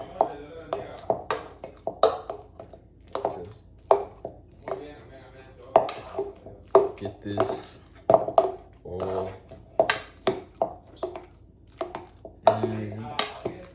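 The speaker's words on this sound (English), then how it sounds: "But you know, just mash it all up" Avocados mashed in a bowl for homemade guacamole, giving repeated soft squelching thuds and tapping scrapes of a utensil against the bowl, close and steady, under intermittent talk and background voices.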